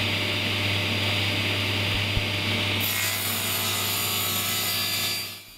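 Table saw cutting the outer face of a sliding dovetail with a miter gauge, a loud continuous whirring and rasping cut with a brief knock, winding down at the end.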